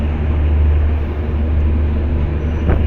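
Inside a 3rd AC economy coach of an Indian express train running from Howrah to Pondicherry, a loud, steady low rumble of wheels and carriage fills the air, with a faint brief clank near the end.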